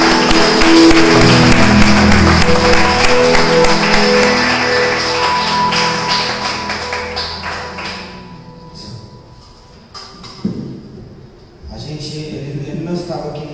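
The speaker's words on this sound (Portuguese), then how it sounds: "Aplauda o Senhor Jesus." A church congregation claps together in a sustained burst of applause that fades out after several seconds, followed by quieter scattered sounds and a few knocks.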